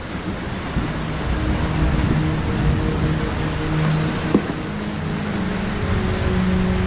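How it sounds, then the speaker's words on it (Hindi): Dense, steady rain pours down in a continuous hiss, with a low rumble and occasional faint tones beneath it. "जंगल में बहुत तेज बारिश हो रही है"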